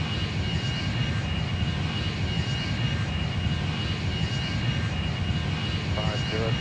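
A PIA Airbus A300's jet engines roar at takeoff power, a loud, steady, broadband rumble filling the cabin without pause, with a faint voice briefly audible near the end.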